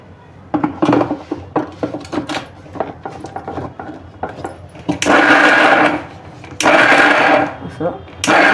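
A kitchen mixer grinder grinds amla with rock sugar and no water, running in two loud whirring bursts that are switched on and off, after clattering handling sounds and speech.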